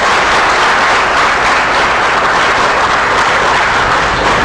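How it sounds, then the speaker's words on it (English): Audience applause at a professional gathering on forensic accounting, a thick, uninterrupted roar of many people clapping, loud and even from start to finish. "Let's give him a big round of applause."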